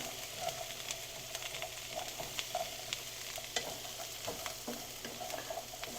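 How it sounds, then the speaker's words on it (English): Onion sautéing in butter, about four tablespoons, for a spicy Latin chicken pot pie: a faint, steady sizzle with scattered soft clicks and scrapes of stirring, no voices. "4 tablespoons of butter. I'm going to saute that."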